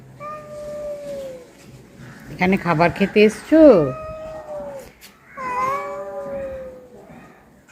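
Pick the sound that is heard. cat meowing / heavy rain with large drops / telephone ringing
cat meowing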